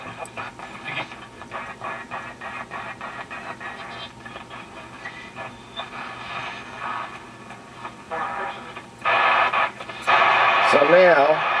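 A restored 1940 Popular Mechanics superhet portable radio plays a faint, tinny broadcast through hiss and static, with bursts of louder noise and a warbling whistle as the tuning shifts near the end.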